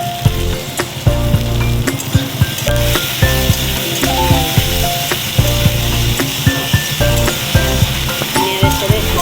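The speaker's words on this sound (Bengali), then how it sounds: "উচ্ছে আলুটা অনেকটা ভাজা হয়ে গেছে" Bitter gourd and potato frying in a pan, a loud, close, continuous sizzle broken by regular scraping knocks of a spatula stirring the pieces.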